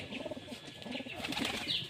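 Giribaj pigeons, five or six pairs kept together in a small cage-like loft, give close, steady soft cooing with a rustle of wings and shuffling throughout.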